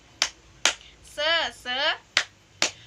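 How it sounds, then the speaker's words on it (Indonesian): Rhythmic 'tepuk semangat' clapping chant led by a teacher: four sharp clap bursts in a steady pattern, broken in the middle by two sung or chanted vocal phrases, moderately loud and close. "ayo kita ulangi tepuk semangat di awal tadi"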